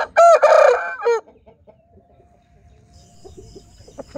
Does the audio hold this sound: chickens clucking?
yes